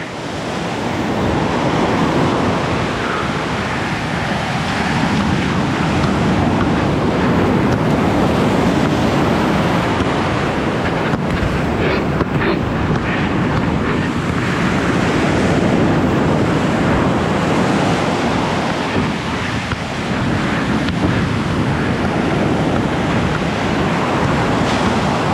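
Ocean surf at an Australian beach, with waves washing and breaking continuously and loudly throughout, under heavy wind buffeting on the microphone and no talk.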